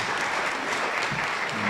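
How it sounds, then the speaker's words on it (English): Continuous applause from the audience at a high school strings concert rings out loud and even, many hands clapping together with no gaps. "Round of applause again for Mr. Allen and the rest of the admin team"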